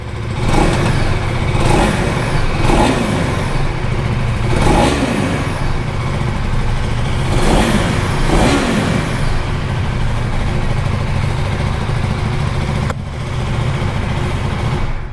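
A 2025 KTM Duke 390 motorcycle with an underbelly exhaust revs loudly and repeatedly, each throttle blip rising and falling over a steady engine drone, with a faint whistling edge to the note.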